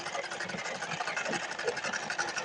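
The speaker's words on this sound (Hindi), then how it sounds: "तो यहाँ पर देखिए हम सिलाई लगा रहे हैं इस तरीके से।" A sewing machine stitching a silk blouse lining with a half-inch margin, running as a fast, steady, close mechanical whir with rapid needle ticking the whole time, a faint voice underneath.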